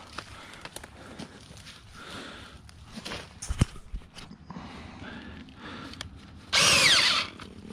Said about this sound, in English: Go ahead and get our drill.